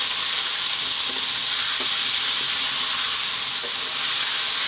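Chunks of beef with a little fat fry in a pan over lively heat, giving a loud, steady, close sizzle with a few faint clinks of stirring and no talking.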